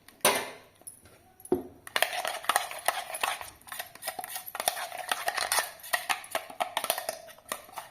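A spoon clinks and scrapes in a pot while mixed dal batter is stirred with water. Close, irregular taps and swishes follow in a quick rhythm after a few louder knocks at the start.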